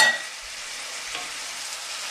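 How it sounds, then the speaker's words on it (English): A hot pan hisses steadily as white wine goes in to deglaze it while cooking farfalle with salmon, a bright continuous sizzle that starts with a sharp burst and settles into an even, close crackle. "it's time to deglaze with your white wine"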